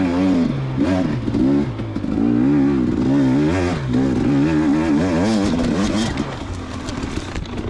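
A 2019 KTM 250xc two-stroke dirt bike lapping a track, loud and close, its engine revving up and down repeatedly over bumps with constant rising and falling pitch and rattling clatter.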